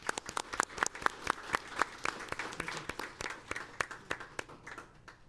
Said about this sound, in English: So a round of applause for Fallon's family.